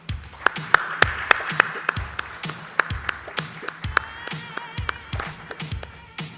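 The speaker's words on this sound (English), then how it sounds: "let's do that with a warm round of applause" Scattered applause welcomes panelists onto the stage at a panel discussion event, individual claps ringing out sharply and irregularly rather than blending into a dense roar, heard at moderate volume in an echoing hall.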